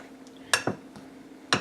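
A pastry blender cuts butter into flour in a bowl: a few sharp metallic clinks and scrapes against the bowl, close and sparse, separated by quiet pauses.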